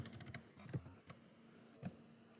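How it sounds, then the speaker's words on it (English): Quiet typing on a computer keyboard indoors, a quick run of clustered keystrokes followed by a few sparse isolated taps, close to the microphone with no talk over it. "I'm just typing this out so we can fix it in a minute"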